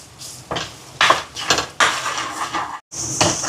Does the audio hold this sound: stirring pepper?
yes